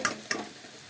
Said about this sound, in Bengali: পেঁয়াজ তেলে দেওয়া হয়ে গেল পেঁয়াজ মশলা একসাথে দিয়ে এখন ম্যাগিগুলোকে ঢেলে দেওয়া হবে